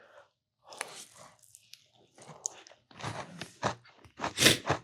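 Someone bites into and chews a Crumbl peanut butter cookie close to the microphone, with crisp crunches and moist chewing in uneven bursts growing louder toward the end, with no talking.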